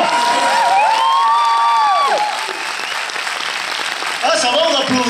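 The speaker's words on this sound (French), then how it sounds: "Et vous applaudissez alors qu'il y a des enfants dans la salle." A cinema audience at a film premiere breaks into loud, sustained applause mixed with crowd cheering and children's shouts, while voices and whistle-like cries ring out over the clapping throughout.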